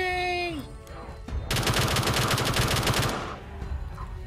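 A rapid, loud burst of automatic gunfire rattles for about two seconds in BO3 Custom Zombies on The Reichstag map, close and harsh, framed by brief game sounds before and after.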